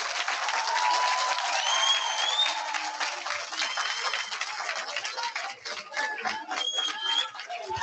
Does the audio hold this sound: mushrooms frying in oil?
no